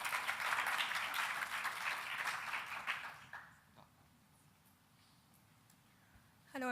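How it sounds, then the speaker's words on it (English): Audience applause breaking out for a performer called to the stage, a dense wash of clapping that swells briefly and then thins out after a few seconds into near silence. "Can we give a stronger one?"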